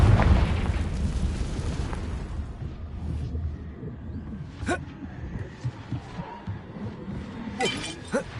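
A Confringo spell blast in a video game booms and shatters loudly at the start, then crackles and pops in scattered bursts as the debris settles.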